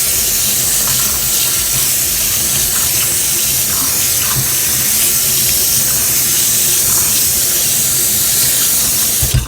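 Running tap water pours steadily and loudly as a paint brush is rinsed beneath it, a continuous close hiss and splash with no talk.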